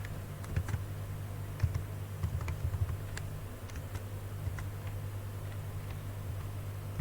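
Keystrokes on a computer keyboard while writing Python code, a steady patter of close, moderately loud clicks with a low hum running underneath.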